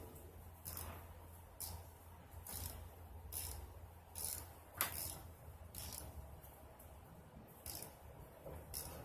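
A socket ratchet turns on the bank 1 camshaft sensor of a 2007 Nissan Maxima, giving faint, sparse clicks at a slow, fairly regular pace over a quiet background.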